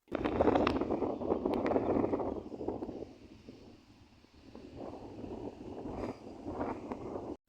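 Gusty wind at the Neolithic village of Skara Brae, Orkney, buffets the microphone with low rumbling roar, strong at first, easing briefly in the middle, then picking up again.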